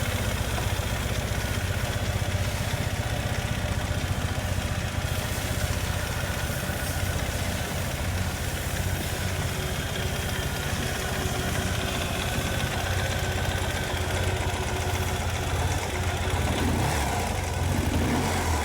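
A motorcycle engine runs continuously at idle with some revving, a loud, steady mechanical drone filling the whole stretch with no talk over it.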